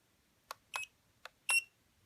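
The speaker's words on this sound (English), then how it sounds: "It's a centering beep." A Proto X drone's trim control gives short electronic beeps, four quick high-pitched bleeps in an uneven pattern, the last one slightly longer and more pronounced, faint and close against a quiet background.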